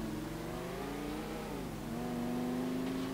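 A car engine revving in GTA IV, a steady mid-pitched drone that rises and shifts in pitch as it accelerates, continuous and fairly close with no talking over it.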